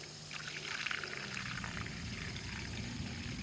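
White vinegar pours into a 2-gallon garden sprayer while a weed killer mix is made, a soft, continuous trickle and splash that is faint and close.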